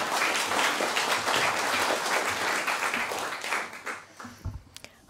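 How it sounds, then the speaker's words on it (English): Warm audience applause for a writer at a literary event, a dense, steady wash of clapping from a full room that tapers off into a few scattered claps near the end. "please a warm applause for my new family member"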